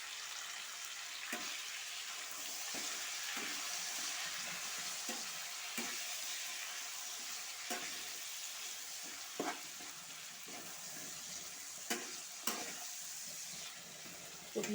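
Tomatoes fry in a pan with a little turmeric for a Bengali dish, giving a steady soft sizzle broken by repeated spoon-stirring clicks and scrapes, close and fairly quiet, with no talking.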